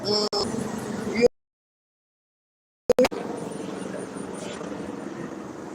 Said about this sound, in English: helicopter flying above